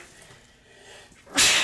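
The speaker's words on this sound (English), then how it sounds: "I'm having a sneeze attack in the middle of the broadcast" A single sharp, loud human sneeze bursts out near the end after a quiet stretch during a live trading broadcast.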